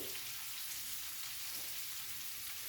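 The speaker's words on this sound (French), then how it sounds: "On va faire revenir un peu l'oignon." Chopped onion frying in fat in a pan as the base for a celery and chorizo risotto, giving a steady, close, even sizzle that runs unbroken from start to finish with no voices.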